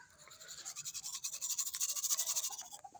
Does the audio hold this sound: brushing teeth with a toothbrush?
yes